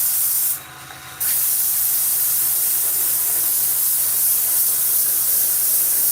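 A spray gun lays on a coat of paint with a steady, loud, close hiss, broken by one short pause near the start before the spraying resumes and runs on without a break.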